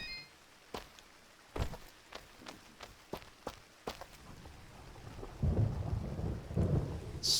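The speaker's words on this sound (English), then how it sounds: "It's always raining here." Rain and thunder in the video game Dust: An Elysian Tail: steady rainfall with a series of sharp thunder cracks and rumbles, then heavier rolling thunder building toward the end.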